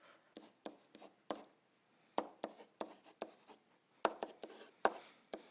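Pen scratching on paper as a calculus answer is written down, a quick irregular series of close, faint strokes and taps with short pauses, no talking.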